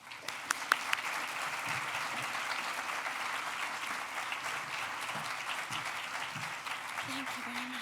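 An audience at Colorado State University applauds steadily to welcome the university president onto the stage, with a dense, sustained clapping that holds at an even level throughout, and a few scattered voices underneath.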